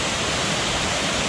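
West Burton waterfall roars as a loud, unbroken broadband rush of falling water close by, with no voices over it.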